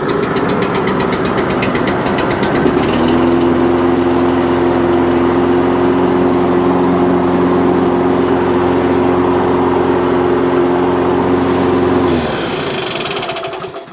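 A cheap supermarket petrol lawnmower found at the dump starts on choke after a brief rattle, then runs loud and steady close by for several seconds before cutting out.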